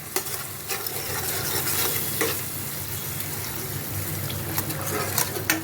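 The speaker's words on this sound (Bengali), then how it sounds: "এখন একটু সামান্য জল দেব।" Water poured into a pan of spices already fried in oil, with loud continuous sizzling and bubbling plus stirring scrapes, close up and steady throughout, no talk.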